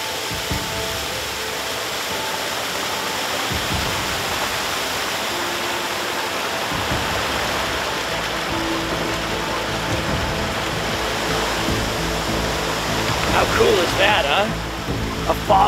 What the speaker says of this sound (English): What better way to quench your thirst than from a pure mountain stream?